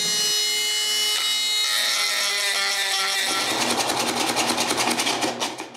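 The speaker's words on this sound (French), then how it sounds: "je sors une de mes râpes de sculpture et je finis la job avec" A carving rasp works the surface of a wooden dog bowl, starting as a smoother grinding buzz, then turning into quick, rhythmic scraping strokes that grow louder and rougher toward the end. No one speaks.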